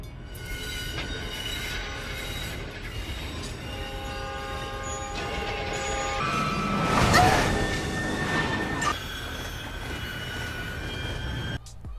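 A train rolls past on the tracks, loud and close, with metallic wheel squeal, a swelling rumble in the middle, then easing off.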